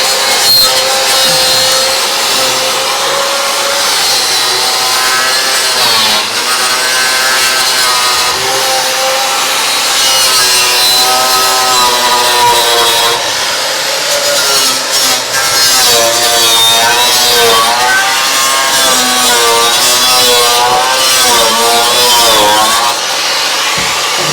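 A stainless steel wire brush, most likely power-driven, scrubs hard against metal on a Crew Cab Charger, a loud continuous rasping whine with brief pauses and shifting pitch, no talking.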